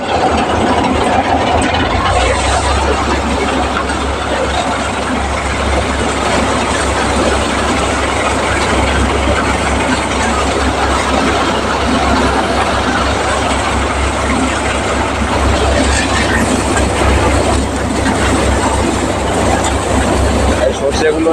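A mustard seed crushing machine runs out in a field, a loud, steady mechanical clatter and drone that never lets up, with voices mixed faintly underneath.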